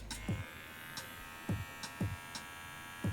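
A Manscaped Lawn Mower 3.0 body trimmer runs steadily with a thin, even electric motor whine, close and fairly quiet, marked by a few soft clicks or taps.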